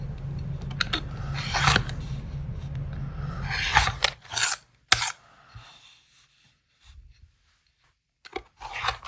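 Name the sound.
trimming a half square triangle quilt block with trimming tool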